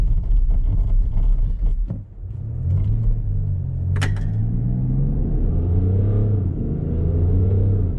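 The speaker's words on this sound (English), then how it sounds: "let's just try to brake it completely from 70 kilometers per hour" A 2019 BMW X5 30d xDrive brakes hard from 70 km/h, with loud low road and tyre rumble and a brief squeal partway through, all heard from inside the cabin.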